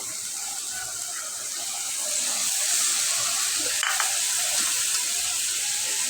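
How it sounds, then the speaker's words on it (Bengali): Water is poured into a pan of fish, potato and teasel-gourd curry, a soft continuous rush over a low sizzle that swells slightly midway, with no speech. "তো এর মধ্যে আমি এখন দিয়ে দিচ্ছি একটু জল"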